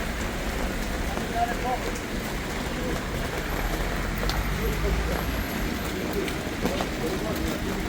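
Steady rain falls in a continuous, even hiss with soft patter, with no clear breaks from start to finish, at an outdoor funeral in Krushë e Madhe.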